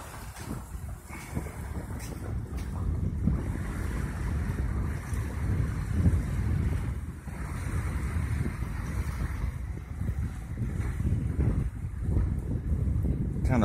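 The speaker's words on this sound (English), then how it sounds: "Kind of blustery, ain't it?" Blustery wind roars continuously at Kachemak Bay, Alaska, at high tide, buffeting the microphone with a dense, steady rumble and gusty surges throughout, with possible surf beneath.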